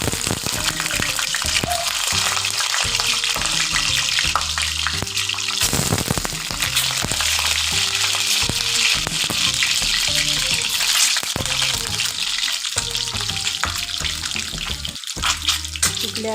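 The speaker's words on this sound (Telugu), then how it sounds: "ఆయిల్ వీటెక్కుని గుడ్లు వేసుకుందామండి." Eggs fry in hot oil in a pan, giving a continuous loud crackling hiss with scattered pops throughout, no talking.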